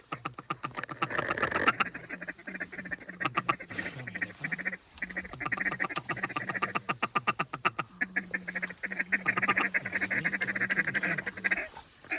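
Ducks quacking over a dry field during a waterfowl hunt in North Dakota, rapid repeated calls in bursts, clear and fairly close, with brief pauses between runs.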